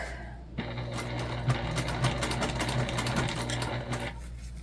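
A sewing machine stitches fabric for a waist pack in a steady, fast continuous run lasting about four seconds, close and moderately loud, with a screwdriver holding the fabric down under the needle.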